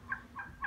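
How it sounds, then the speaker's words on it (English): A flock of geese near a house honks three times in quick, evenly spaced calls, faint and at some distance. "There's a bunch of geese at this house."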